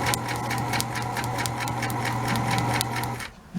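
Sewing machine running steadily as it stitches seams on fabric for a new coat, a continuous close mechanical whir with rapid needle rhythm that cuts off abruptly near the end.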